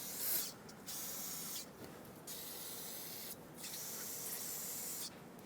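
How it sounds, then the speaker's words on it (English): Brake parts cleaner sprayed onto the upper ball joint mount of a 2003-2009 Dodge Ram 2500, heard as four steady aerosol bursts of bright hiss, each a second or more long with short pauses between, up close and with no talk. "Spray it down with some brake parts cleaner."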